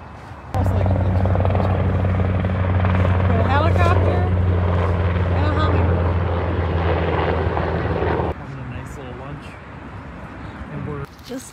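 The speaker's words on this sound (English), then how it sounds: "The helicopter." A loud, steady helicopter rotor drone with a deep thumping hum dominates, then drops abruptly to a quieter rumble; voices can be heard beneath it, near the Pacific Crest Trail.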